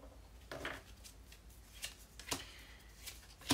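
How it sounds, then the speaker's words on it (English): Soft, close riffling and slapping of a deck of tarot cards being shuffled, in a few quick bursts with quiet pauses between. "so just do a good faith shuffle."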